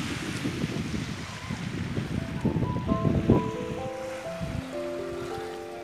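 Waves wash onto an empty Lamadrague beach in Algiers as a low, rolling surf rumble with wind noise on the microphone. A few faint steady tones drift in toward the end.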